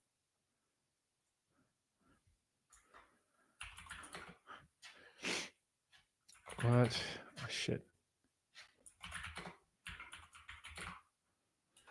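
Typing on a computer keyboard: irregular bursts of clicking key strikes, close and moderately loud, mixed with a voice speaking in between.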